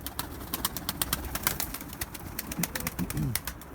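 Pigeons, several blue males among racing homing pigeons, coo softly in repeated low rolling calls amid scattered clicks and light rustling, fairly close with no talking.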